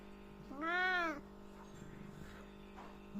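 A single clear meow from a domestic cat at close range indoors, a short rising-falling call, followed by quiet room hum and faint sounds.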